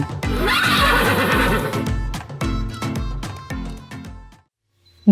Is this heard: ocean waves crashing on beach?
no